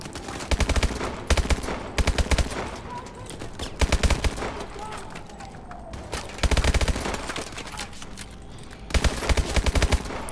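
Bursts of automatic gunfire from a futuristic military shooter game, Call of Duty: Advanced Warfare, loud and close, firing in repeated clusters with short gaps of quieter game ambience between volleys.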